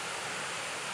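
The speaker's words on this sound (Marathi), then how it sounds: "मला आत्ता फक्त आवाज येतोय आणि थोडा थोडा दिसतोय धबधबा." Far-off waterfall hidden in forest, heard as a steady, even broadband rush with no breaks, a continuous roar that stays constant throughout.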